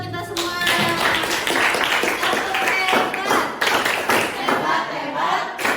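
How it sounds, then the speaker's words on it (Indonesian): A group of people claps hands together in a classroom, a loud, steady burst of close, fast overlapping claps that lasts throughout. "Tepuk tangan buat kita semua"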